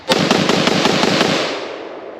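A SIG-Sauer MCX Spear 7.62 pistol fired from the hip, a rapid string of about eight loud, close shots in quick succession, then a fading echo.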